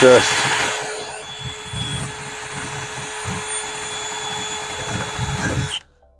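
A 3/4 inch wire brush scrubs heavy rust off bolt threads while installing a new wood bed on a square body Chevy truck, giving a steady rasping, buzzing scour with rhythmic pulses, close and fairly loud throughout before stopping abruptly.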